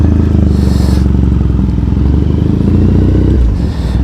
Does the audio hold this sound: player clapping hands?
no